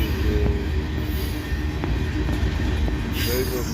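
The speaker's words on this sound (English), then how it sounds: "Look, we got some intermodal cars on this train." Freight train with intermodal cars rolling past close by, a steady loud rumble with faint wheel clicks and a thin squeal high above.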